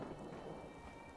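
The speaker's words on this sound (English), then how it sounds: "Might just be a thunderstorm." A video game thunderstorm in a frosty setting: steady rain hisses and patters while low thunder rumbles underneath, quiet and continuous with no voices.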